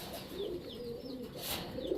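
A red Rajgolla pigeon from Manikganj, a male, gives soft throaty coos in low murmuring phrases over a busy background of other birds chirping nearby, with no talk.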